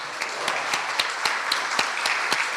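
Sustained audience applause at an engineering conference on the Lima and Callao Metro Line 2 project in Peru, a dense steady wash of many hands clapping in a hall with no talking over it.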